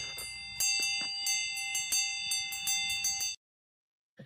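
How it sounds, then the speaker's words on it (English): A bell is struck repeatedly, a bright ringing series of about a dozen quick, uneven dings with sustained metallic overtones, then cut to silence followed by a short faint noise at the end. "so let's hit the bell."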